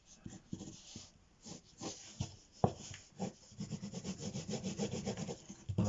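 A pencil drawing of an apple is rubbed by hand, giving quiet, close, irregular scratchy rubbing strokes that speed up into a denser run toward the end.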